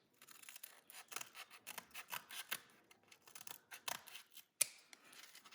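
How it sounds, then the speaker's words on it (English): Scissors snip and rasp around the edge of paper, a close, quiet run of uneven cuts and rustles with short pauses and one sharp click. "Just cut around the edge with a pair of scissors."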